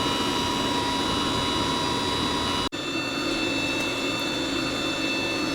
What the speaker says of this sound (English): I can definitely tell that the motor is starting to struggle a little bit